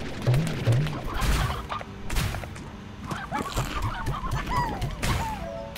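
Chickens cluck repeatedly in the video game Slime Rancher, mixed with thuds, whacks and other game effects in a busy, fairly close scene.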